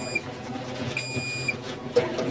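Alarm beep from a solar-powered barrel hand-washing sink: a brief high beep, then a steady half-second tone, fairly faint over low background noise.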